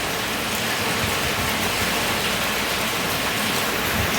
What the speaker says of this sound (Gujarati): આજે વરસાદ તો એવો ધોધમાર જ આવે છે